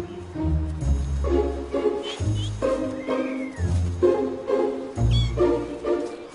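A cat that has been mothering ducklings meows repeatedly in loud, drawn-out calls close by, several cries in a row with short pauses between them.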